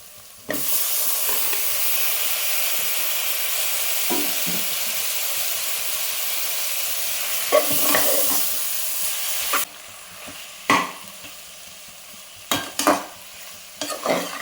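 Tomatoes and onions fry in a pan for chicken biryani, a loud continuous sizzle that later eases off, with intermittent stirring scrapes and clanks growing more frequent toward the end.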